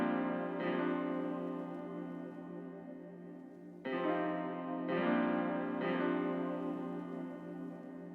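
A melodic beat with bell-like tones rings out with reverb and delay tails, while soft vinyl crackle sits underneath. A few struck notes sustain and decay slowly over the gentle, spacious texture.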